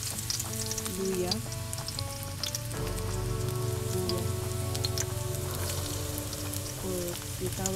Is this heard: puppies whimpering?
no